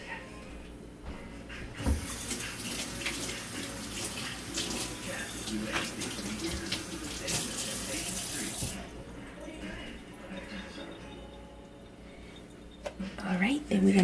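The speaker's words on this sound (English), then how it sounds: "let me wash my hands really quick." A kitchen faucet gushes steadily for several seconds while hands are washed, with splashing and rubbing under the flow, then cuts off, leaving faint rustles and a soft clatter near the end; brief quiet speech is present.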